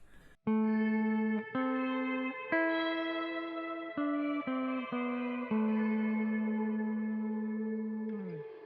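Guitar notes through a GUP Tech Bea-Verb delay/reverb pedal with an octave-above effect, a sequence of sustained tones with shimmering upper octave in the reverb tail, ringing out before a brief bend at the end.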